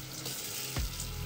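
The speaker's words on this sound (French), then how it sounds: "On rince sa planche." Tap water runs steadily over a wooden cutting board in a close, continuous rinse, with a single soft knock partway through.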